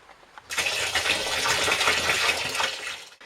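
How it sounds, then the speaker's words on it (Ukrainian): Water poured onto grape pomace in a container starts abruptly and runs for about three seconds as a bright, splashing gush, then cuts off. "Тепер потрібно їх ледь-ледь залити водою."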